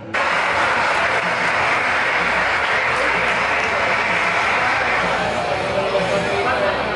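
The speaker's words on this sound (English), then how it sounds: "They actually play applause out from the loudspeaker instead of the fans clapping" Recorded applause blares over stadium loudspeakers as a steady, dense wash of clapping that holds at an even level throughout, slightly hollow and broadcast-like rather than close and live.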